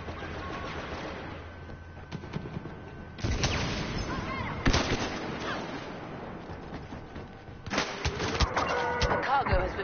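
Scatter gun blasts in Star Wars Battlefront come as several loud, separate bursts spaced seconds apart, over background battle noise, with a voice talking throughout.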